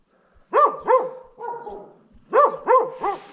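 Dogs bark in two close bursts of two or three sharp barks each, with a softer, drawn-out bark between them.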